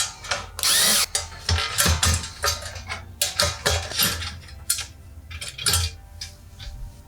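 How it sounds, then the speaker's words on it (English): A power tool backs out a couple of screws from the upper dome of an electric pizza oven with a double 1200 W heating element: short, close whirring bursts broken by small metallic clicks and handling knocks. "We just have a couple of screws here to remove"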